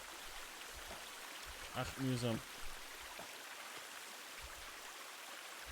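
A waterfall in The Forest video game rushes as a steady, even wash of water noise throughout, with a brief spoken remark in Swiss German over it.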